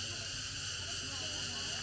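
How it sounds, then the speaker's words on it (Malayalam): Crickets chirp in a forest near Kuttikkanam, a steady high-pitched drone filling the background with a constant insect buzz and no break in level. "ഇവിടെ ചീവീട് അലയ്ക്കുന്ന സൗണ്ടാണ് ഇവിടെ മൊത്തം കേൾക്കുന്നത്"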